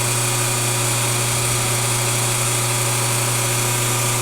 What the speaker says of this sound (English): So it takes about 20 minutes to shave the flywheels.